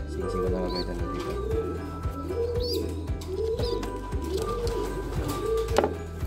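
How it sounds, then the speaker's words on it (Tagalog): A racing pigeon coos in repeated rolling phrases, close and clear, with faint chirps and light tapping in the background. "Brother Paul, ito ibon mo."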